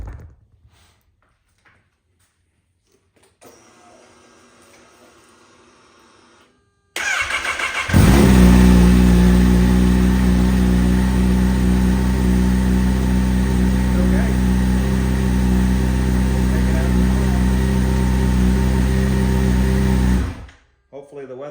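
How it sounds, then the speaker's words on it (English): A 2022 Kawasaki ZH2 motorcycle cranks and fires up, then runs loud and steady at close range for about twelve seconds before cutting off abruptly, preceded by faint clicks and a quiet hum. "we're just going to briefly start the bike and just make sure it runs properly."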